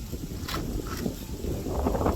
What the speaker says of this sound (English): It's too windy today